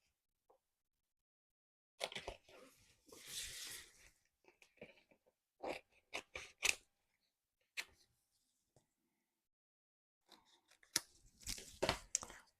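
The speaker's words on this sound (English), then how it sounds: "There's my scissors." Scissors cutting paper while making a craft card at a table: several short snips and rustles come in scattered bursts separated by near silence, close and fairly quiet.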